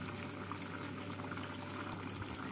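Curry gravy bubbles on the stove with koftas just added, a soft, steady simmering hiss with faint bubbling, fairly quiet and continuous, with no voices.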